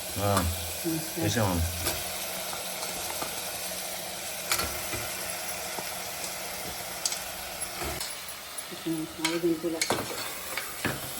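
A spoon scrapes and stirs paya soup ingredients coated in masala in a hot pan, giving a steady sizzle of frying food with repeated clinks and scrapes near and clear.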